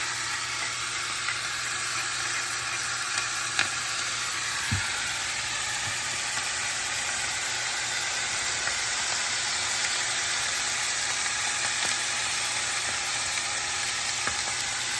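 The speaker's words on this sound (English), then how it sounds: "let it steam for a little bit while it's also pan frying" Continuous, dense sizzling of zucchini pan frying, seasoned with salt and pepper, an even crackling hiss throughout with occasional faint clicks.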